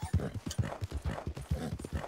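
Hooves clip-clop in a steady trotting rhythm, close and moderately loud, with faint background sound around them.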